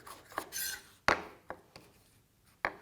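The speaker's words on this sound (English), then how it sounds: "And I just love the rocking motion that this knife provides." A long-bladed Pete Evans kitchen knife slicing through capsicum on a board with a rocking motion, giving a few sharp close cuts and soft scraping rasps spaced across a short quiet stretch.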